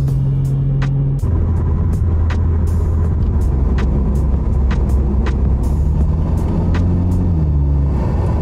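A Porsche Cayman R drives an Alpine pass, its engine droning loudly and steadily from inside the cabin, with a shift in pitch early on and faint ticks and clicks over the constant rumble.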